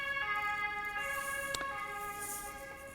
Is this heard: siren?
yes